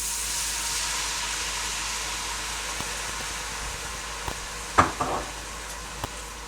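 Wine poured into a hot pan of browned vegetables for deglazing hisses in a steady, broadband sizzle, with a few sharp spits and crackles near the end, close and fairly loud, no talking.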